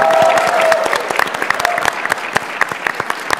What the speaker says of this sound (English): Round of applause for everyone here.